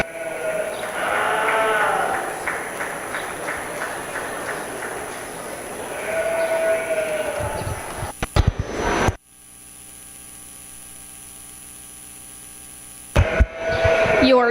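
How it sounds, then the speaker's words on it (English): Sheep at a livestock show's commercial lamb class bleat in a crowded arena with steady mains hum, a few clear calls rising over the din before a quieter stretch and a last burst of noise. "Good set of sheep here to represent our commercial division."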